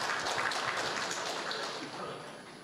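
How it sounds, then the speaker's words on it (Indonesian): Audience at a political speaking event clapping loudly for a couple of seconds, a dense continuous patter that slowly fades, with some crowd noise mixed in. "Boleh tepuk tangan yang meriah."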